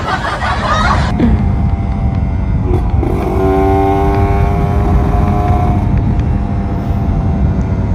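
A Kawasaki Ninja RR 150 motorcycle being ridden, its engine droning steadily close by with wind rush, the pitch climbing as it accelerates.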